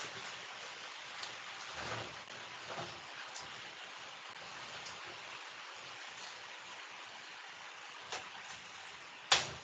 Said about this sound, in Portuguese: tá chovendo aqui, peraí